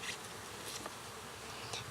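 Honeybees buzzing around an open hive during an inspection on a spring day, a dense steady insect drone close by with no talking.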